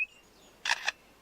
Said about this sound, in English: That was a camera shutter.